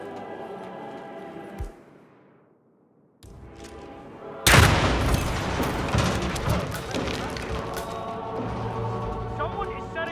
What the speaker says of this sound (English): Someone is setting up explosions.